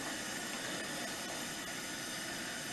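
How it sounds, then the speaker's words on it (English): Balsam tip jelly mixture with lemon juice at a rolling boil in a pot, a dense steady roar of bubbling and hiss, close and unbroken, with no voices. "it's been up to a rolling boil here, which is a boil that doesn't stop when you're using a spoon"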